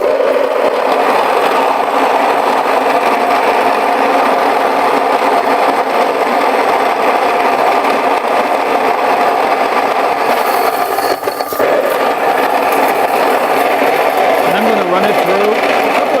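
A Mockmill grain mill grinds about a cup of rice on a very coarse setting, giving a steady, loud, continuous mechanical whir with a gritty texture that holds unchanged throughout.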